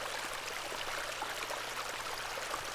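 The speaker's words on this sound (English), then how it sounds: "This is a lovely little beck" A small beck in the pixel-art horror game The Excavation of Hob's Barrow, a steady, even rush of flowing stream water that stays continuous and moderately loud, with no voices.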